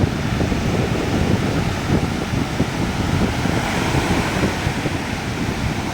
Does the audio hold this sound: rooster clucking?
no